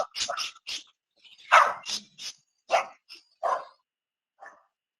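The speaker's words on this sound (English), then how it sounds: "Sorry, I have dogs that bark." Several dogs barking in a home, a run of sharp, loud barks in quick bursts close by, with gaps between and a last softer bark trailing off; no speech over them.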